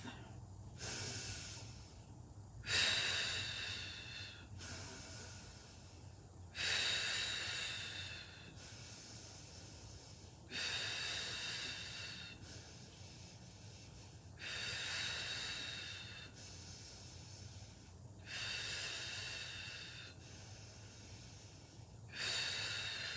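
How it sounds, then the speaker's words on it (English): Slow, deliberate breaths during a core workout draw in through the nose and push out through the mouth. About six long cycles come at an even pace, with a soft airy hiss rising on each breath over a low, quiet hum. "start with the breathing. In through your nose, out through your mouth."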